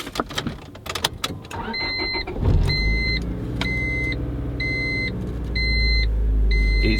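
A car fitted with an Apex'i N1 catback exhaust cranks over and starts after some clicks and door sounds, then settles into a low, steady idle with repeating chime beeps over it.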